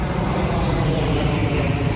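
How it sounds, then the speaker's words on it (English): An airplane passes overhead, a continuous broad roar of engine noise that stays steady and fairly loud throughout the short stretch, with no voices. "These planes overhead suck!"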